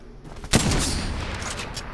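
Gunfire in the video game Apex Legends: a sharp, loud shot bursts in after a quiet moment, followed by a dense, sustained rattle of firing and game noise that carries on to the end.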